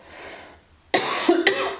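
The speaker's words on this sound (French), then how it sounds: "Vous voyez, ça me fait tousser." Two sharp, close coughs in quick succession, following a quiet stretch with faint background hum.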